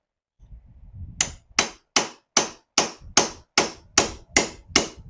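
Ten sharp metallic hammer blows on a swage tool, driving a star nut into a bicycle fork, land in an even, steady rhythm after a few soft handling noises, each strike close, crisp and ringing briefly.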